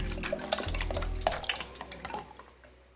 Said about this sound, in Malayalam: ഇനി നമുക്ക് ഇതിലേക്ക് മുട്ടേൻ്റെ വെള്ളം കൂടി ഒഴിച്ചു കൊടുക്കാം